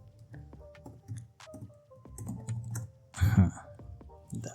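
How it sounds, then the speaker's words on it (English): Keys tap in a quick, uneven run with a sharper burst partway through as a password is typed on a computer keyboard, fairly quiet with a low room hum underneath and no voices. "Type your password, LIVEUSE, live user."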